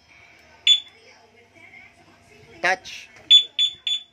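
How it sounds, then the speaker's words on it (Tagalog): A two-way alarm on a Yamaha MSI 125 motorcycle gives sharp electronic chirps, first a single one, then a burst, then three quick beeps in a row, close and loud, with someone speaking briefly between them. "Alarm installation MSI 125."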